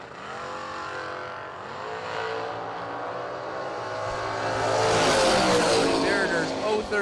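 Two drag race cars, a Camaro and a 1978 Malibu, sit revving at a fall drag racing event. Rising engine harmonics swell into a louder, harsher roar as they launch, with a voice talking over them.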